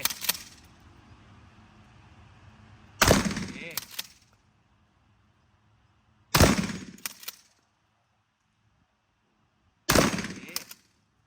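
A shotgun firing at an outdoor shooting range, three loud close blasts spaced a few seconds apart, each followed by brief clatter of handling, with quiet pauses between and faint background sound.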